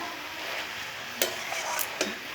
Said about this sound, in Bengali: এই দেখুন কীভাবে কষা হচ্ছে।